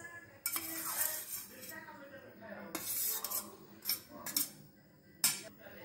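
Ingredients for bread cutlets, including grated carrot, onion and coriander, are mixed in a bowl with a spoon, giving close, uneven scraping and clinking of metal against the dish in short bursts.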